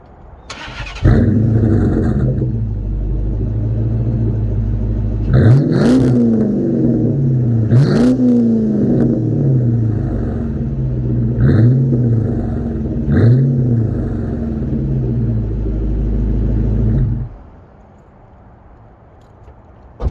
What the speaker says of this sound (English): here I'll give you an exhaust sound here in a second